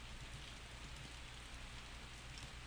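Steady rain in the game To the Moon, a continuous soft hiss of falling drops spread evenly throughout, with no voices.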